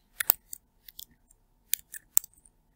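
A few sharp, sparse clicks from typing an email address on a keyboard, close and crisp, separated by short silences.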